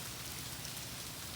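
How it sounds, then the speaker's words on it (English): Ice breaking loose and falling off trees after a 2023 Michigan ice storm makes a steady, dense pattering hiss like heavy rain, faint and continuous throughout with no voices. "is ice falling off the trees."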